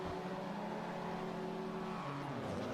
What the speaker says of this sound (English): Engines rev once more as we get set for heat number 3.